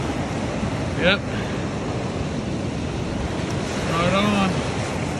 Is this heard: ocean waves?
yes